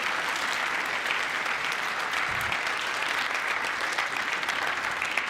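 Sustained applause from a crowd during Trump's speech to Congress, steady, dense clapping throughout with no talk over it.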